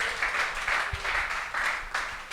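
A comedy-show audience claps in steady, moderately loud waves at a humour night at the IFC in Pointe-Noire, with no talk over it.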